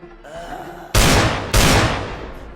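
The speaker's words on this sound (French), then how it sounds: "Tu entends des coups de feu, ils sont vraiment très proches." Two loud, close gunshots ring out about half a second apart, each followed by a long echoing decay, after a quiet low rumble.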